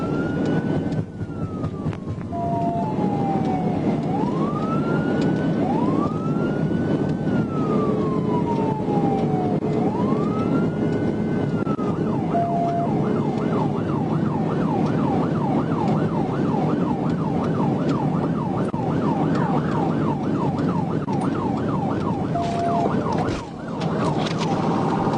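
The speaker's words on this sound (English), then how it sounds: "activated his emergency lights and sirens, initiating a high-speed pursuit" A police car siren wails through long rising and falling sweeps, then shifts into a rapid yelp during a high-speed pursuit on a westbound highway. It is loud and close over steady road and engine noise, with a brief dip near the end.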